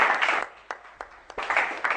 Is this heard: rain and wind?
no